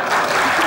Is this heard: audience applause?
yes